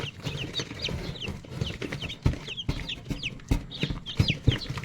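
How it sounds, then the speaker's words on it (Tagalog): Newly hatched chicks from a new incubator cheep in quick, high, repeated peeps, many birds overlapping in a busy chorus close by, with a few louder thumps underneath. "Dami natin sisiyo mga kabokals"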